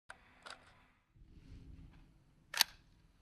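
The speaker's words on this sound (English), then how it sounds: "You will take your firing hand and grab onto the charging handle, bringing it back slightly" A rifle charging handle is drawn back slightly for a brass check, giving a few faint, sharp metallic clicks spaced apart in an otherwise quiet space.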